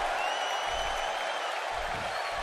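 A wrestling arena crowd in Miami cheers at a tag team match, making a dense, loud, continuous roar of many voices with no gaps.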